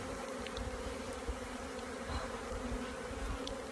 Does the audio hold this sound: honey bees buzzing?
yes